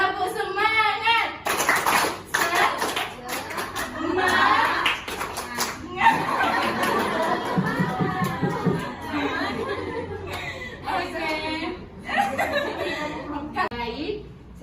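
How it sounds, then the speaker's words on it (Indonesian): A community public-speaking gathering joins in a rhythmic group clap, the tepuk semangat cheer, with bursts of patterned clapping mixed with chatter, laughter and voices counting and calling along. "1, 2, 3. Tepuk semangat."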